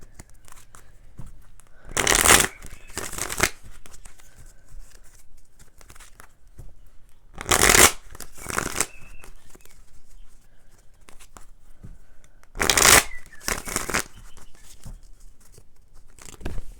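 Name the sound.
shuffling tarot cards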